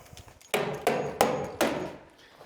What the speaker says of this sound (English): staple them in there.